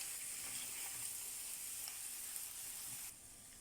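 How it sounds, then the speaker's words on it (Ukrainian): Funchoza rice noodles with chicken, vegetables and soy sauce fry in a pan over medium heat, giving a steady, fairly quiet sizzle that drops slightly in level near the end. "Жаримо приблизно 10 хвилин на середньому вогні, час від часу помішуючи."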